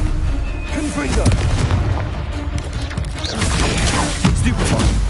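Repeated booming blasts of the Confringo fire spell in Hogwarts Legacy, loud and punchy, landing every second or so amid other combat spell effects, with a voice calling out over them.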